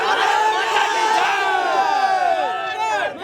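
A crowd of protesting students on a street in Jharkhand shouts a slogan together, a loud sustained mass of raised voices with rising and falling cries toward the end.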